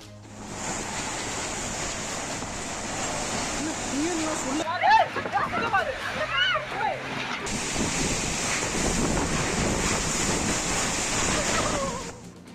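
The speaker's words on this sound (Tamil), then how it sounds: "புதுக்கோட்டை அருகே பொன்னமராவதியில் காற்றுடன் கொட்டி தீர்த்த கனமழை." Heavy rain with strong wind at Ponnamaravathi near Pudukkottai, a steady loud roar of downpour and gusting wind with rushing bursts, continuous throughout.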